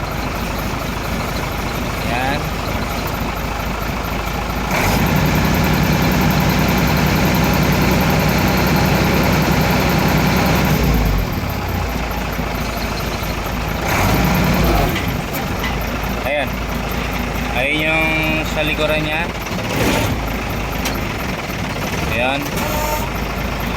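A garbage truck's hydraulic lift runs with a steady, loud mechanical drone and engine hum, shifting in pitch as the mechanism raises and lowers, while someone talks over it throughout.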